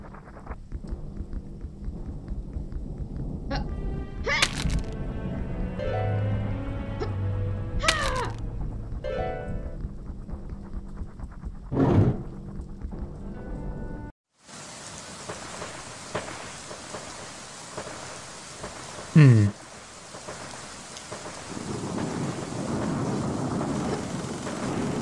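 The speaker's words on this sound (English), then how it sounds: "This rain will hurt you" Harmful rain in the Spectral Mall video game begins suddenly partway through as a steady, loud hiss of falling rain. Before it come scattered game effects and tones, and one sharp swooping sound sits in the middle of the downpour.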